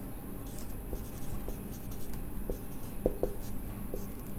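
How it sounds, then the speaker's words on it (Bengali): Chalk or marker strokes on a classroom board during a chemistry lesson, a few short scratchy taps and squeaks spread over a few seconds against a faint room hiss, close and soft. "এবার লিখবো দেওয়া আছে"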